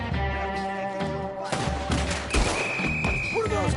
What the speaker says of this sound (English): What are those guns?